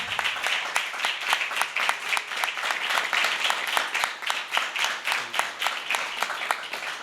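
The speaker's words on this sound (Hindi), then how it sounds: "तो उनके लिए भरपूर तालियां बजा सकते हैं आप।" Audience applause at an anniversary event for a television channel, a steady clapping crowd with a loosely rhythmic pulse that carries on evenly for several seconds.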